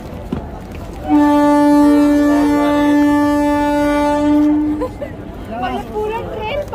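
A train sounds a long, loud horn blast lasting several seconds as it passes close by, with rumbling underneath and voices talking afterward.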